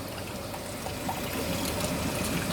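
Water flows steadily from the opened valve of a laboratory filter column into a collection vessel, a continuous close pouring and trickling sound with no voices.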